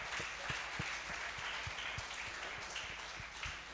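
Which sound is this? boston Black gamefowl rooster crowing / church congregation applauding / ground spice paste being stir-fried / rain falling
church congregation applauding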